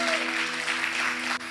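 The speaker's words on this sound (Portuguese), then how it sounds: "Aplauda o Senhor nessa manhã em nome de Jesus" Church congregation applauding during a Sunday morning service, a continuous bed of clapping under a steady sustained musical tone, dipping briefly near the end.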